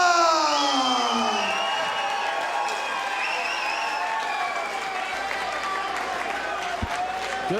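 A crowd at the Rumble at the Roseland fight event applauds and cheers steadily for fighter Mel Locke, a continuous loud wash of clapping and voices with a few shouts rising above it.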